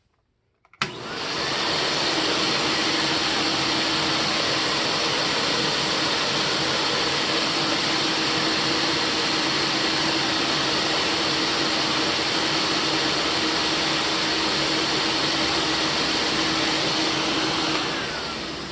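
A 40-year-old Electrolux Olympia One vacuum cleaner switches on and runs at a steady, loud, close roar for the whole stretch, with its airflow measured by a Baird meter and no talking.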